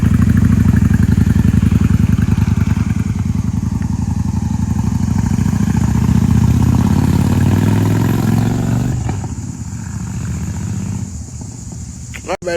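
Honda Shadow motorcycle engine with a carburetor running during a ride, a loud steady rumble close by that eases off and fades toward the end.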